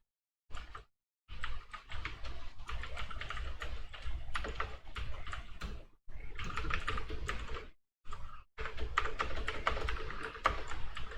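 Bursts of rapid clicking on a computer keyboard as a simple C program is typed, close and steady, broken by short pauses, with no speech.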